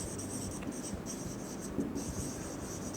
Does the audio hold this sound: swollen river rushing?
no